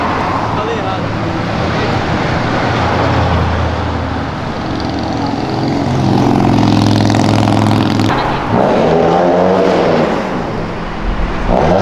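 A Citroën DS3 Stage 4 engine revs hard and loud nearby, building into a roaring climb before dropping off and rising again, while people talk over it.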